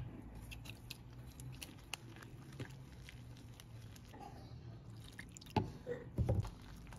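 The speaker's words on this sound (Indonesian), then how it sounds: "Sambil diaduk seperti ini, tambahkan 250 ml air." Water poured in stages into a flour batter for a soft snack while it is stirred, giving a steady wet, squelching patter with small drips and occasional louder sloshes near the end.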